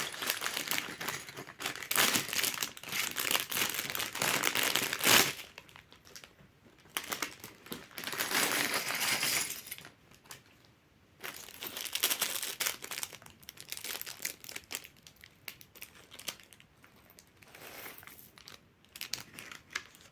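A plastic bag of Lego Sonic the Hedgehog mech set parts is torn open and handled, giving close, loud bursts of crinkling and crumpling broken by short quiet pauses.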